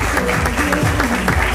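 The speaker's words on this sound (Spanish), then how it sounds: "Fuerte el aplauso para la postulante número 1" Loud, dense applause from an audience for contestant number one at a cultural ambassadors election in Villa Ángela, sustained throughout with music or background sound mixed in.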